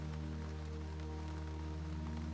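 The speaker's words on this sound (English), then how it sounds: "The first thing you notice is the rain. It is still raining. You can hear it." Steady rain falls in a continuous, even hiss with no breaks, joined by a low constant hum underneath; no voices are present.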